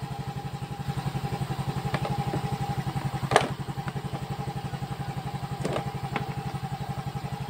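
Motorcycle engine idling close by with its check engine warning being reset, a steady rapid pulsing throb with a few clanks and a sharp clack partway through.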